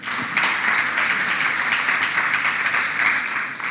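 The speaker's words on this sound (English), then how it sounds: "Shall we please clap for them again?" A conference audience at a communications gathering in Kigali, Rwanda gives a panel a sustained round of applause, even and full-bodied clapping from many hands that stays steady before easing off at the end.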